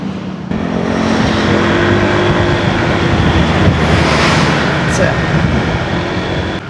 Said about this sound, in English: It's like a 3 kilometre traffic jam out of Sanura all the way from Padangala.